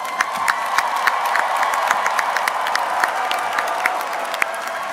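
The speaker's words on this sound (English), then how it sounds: "please join me in a round of applause" A commencement crowd at a college of nursing and public health graduation claps steadily with scattered cheers and whoops rising above the sustained applause.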